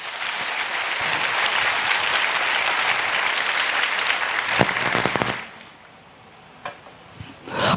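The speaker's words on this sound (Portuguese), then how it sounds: "E também dê um aplauso forte ao Senhor." A church congregation applauds loudly and steadily for about five seconds, with a few sharp claps standing out near the end before the applause cuts off into near silence, followed by a couple of faint taps.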